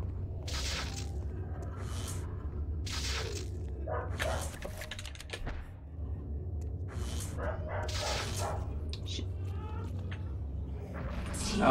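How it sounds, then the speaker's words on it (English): Dogs bark as a sanity effect in the video game Eternal Darkness. Bursts of barking repeat every second or two over a steady low rumble and scattered clatter, fairly close and prominent. "Got some bark in the background too."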